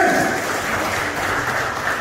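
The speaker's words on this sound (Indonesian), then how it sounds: "Berikan tepuk tangan yang menerima Tuhan" A church congregation applauds in a dense, continuous wash of clapping that holds steady and fills the room, with no speech over it.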